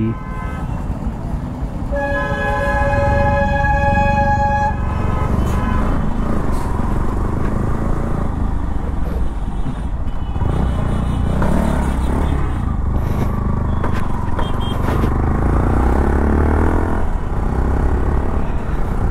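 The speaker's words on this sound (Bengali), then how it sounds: "প্রচণ্ড জ্যাম আজকে গাইস, কেন যে আজকে এখানে মার্কেট লাগে একটা, তার জন্য জ্যামটা একটু বেশি" Heavy traffic jam on a busy market street: a close horn blares for a couple of seconds over a constant rumble of engines and motorcycles, with scattered toots and clatter throughout.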